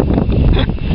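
Strong wind buffeting the microphone, a loud low rumble that surges and dips over a single second, with nothing else audible.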